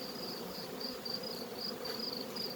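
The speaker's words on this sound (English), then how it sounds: "I've got so many bees." Many honey bees swarm around an open sugar-syrup feeder, a dense, continuous buzzing hum close by that pulses slightly as individual bees pass, with no voices.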